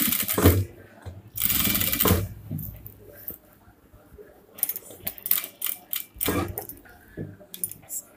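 A home sewing machine stitching a yoke nighty, heard as bursts of close mechanical whirring and clicking that start and stop, with small handling knocks and a few faint voice sounds between runs.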